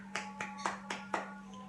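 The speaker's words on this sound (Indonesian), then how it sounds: "kita berikan juga apresiasi" A classroom gives a small group a few claps, five distinct hand claps spaced at a slow, even rhythm over a steady electrical hum, fairly faint and close.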